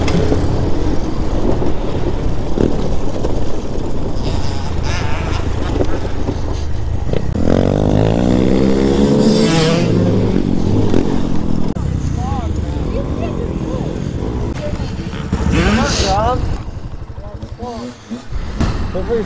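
A Hellcat Raptor 125cc Chinese Grom clone motorcycle revs and roars close by while riding over mud and road, its engine pitch rising and falling through gear changes, with a voice speaking over it.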